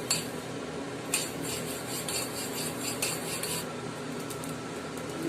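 Mustard seeds crackle and pop in a hot pan while making pickle, with scattered sharp ticks and faint metallic scraping, fairly close.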